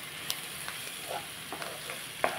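Carrot and beetroot fry stirred in a pan with green chillies, a quiet run of scattered spoon scrapes and soft clicks over a faint low sizzle, with no talking.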